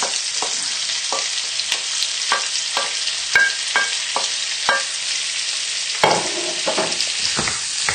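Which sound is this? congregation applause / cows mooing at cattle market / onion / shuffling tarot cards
onion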